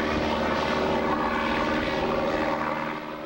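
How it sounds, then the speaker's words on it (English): A propeller banner-towing plane flies low at about 80 miles an hour, its engine droning loud and steady before easing slightly as it passes, with no talk over it. "The planes fly by with a grappling hook at 80 miles an hour and pick the sign up."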